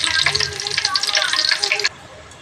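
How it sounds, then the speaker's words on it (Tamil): Curry leaves and dried chillies dropped into hot oil with fenugreek, crackling and sizzling loudly and close for nearly two seconds before cutting off abruptly. "கொஞ்சமாக எண்ணெய் ஊற்றிக்குவோம். எண்ணெய் காயட்டும். வெந்தயம் நல்லா பொரியட்டும்."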